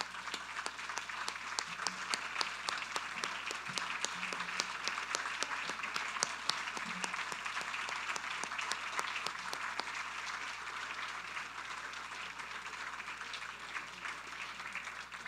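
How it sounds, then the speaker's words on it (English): A standing audience at a 25th anniversary celebration for Philip applauds in a dense, sustained wash of clapping that continues evenly throughout. "let's all stand up and give Philip a round of applause"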